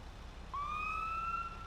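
A custom police car siren in modded GTA 5 starts suddenly after a brief quiet and holds a clear rising tone, loud and alone, for about a second.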